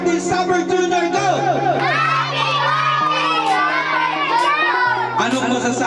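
A crowd of children and adults at a birthday celebration shouts a happy birthday greeting in unison, loud and close, with excited cheering voices rising and overlapping.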